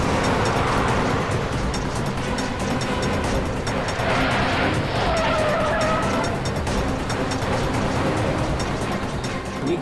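Two identical cars with matching number plates drive off along separate roads, engines roaring loudly and steadily while tires skid and squeal in brief bursts midway through, with no talking.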